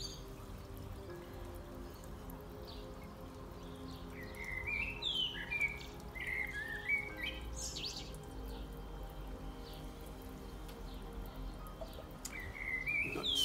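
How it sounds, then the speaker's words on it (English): A female blackbird perched in a garden hedge gives bursts of chirping song, moderately faint over a steady low outdoor rumble, with a cluster of calls midway and another near the end. "lady blackbird in the hedge there"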